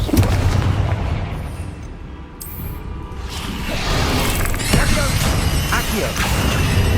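A Confringo spell explodes in the video game Hogwarts Legacy with a loud booming blast and rushing whoosh, followed by a rumbling, crackling tail amid other game effects and voices.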